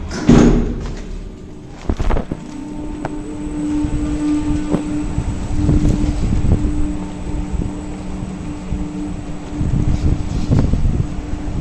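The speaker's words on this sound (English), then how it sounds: "The lift's down, it's an automatic door." An automatic sliding door on a lift in Amsterdam runs with a steady mechanical hum and clunks, a low motor drone under scattered knocks and thuds, close and fairly loud.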